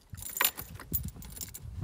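Car keys jangling up close for the Fiat Panda Young 900, a quick metallic rattle with a sharp chink near the start and softer jingles after, no talking.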